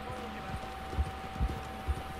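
Horse hooves clip-clop in Red Dead Online, a steady trotting rhythm of soft, low thuds with a few heavier footfalls standing out over a constant game ambience.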